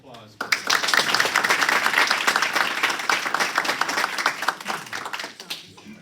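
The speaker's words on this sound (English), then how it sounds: "One more round of applause." Audience at a board of education meeting breaks into a round of applause, dense clapping that swells quickly, holds for several seconds, then tapers off near the end.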